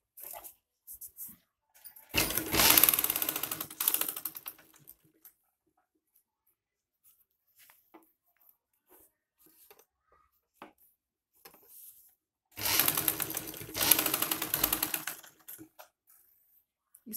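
A sewing machine stitching a high-neck Chinese collar onto buckram runs in two loud bursts of about two seconds each, separated by a long quiet stretch with only faint scattered handling clicks.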